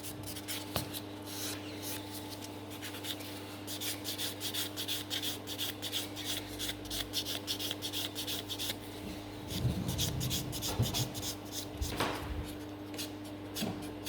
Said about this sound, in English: it is a really great buffer, and I'm just perfecting the things with it